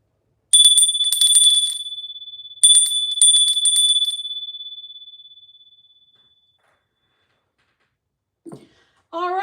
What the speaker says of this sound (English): I'm going to ring the bell and I'm going to bring us in for just a moment